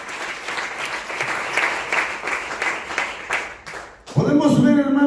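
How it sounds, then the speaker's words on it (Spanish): Church congregation applauding, about four seconds of steady crowd clapping that stops abruptly as a preacher resumes speaking. "Dale un aplauso al Eterno."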